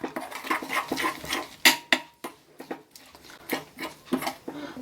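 Sesame filling for kozhukkattai being stirred in a pan over a low flame: a spoon scrapes and clinks against the metal in uneven, repeated strokes, close up, with no talking.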